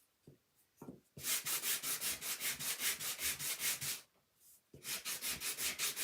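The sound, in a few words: sanding a wooden Santa's train set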